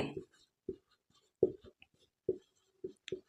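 A pen writes maths equations on paper in short, quiet, close strokes and taps, spaced irregularly with near silence between them.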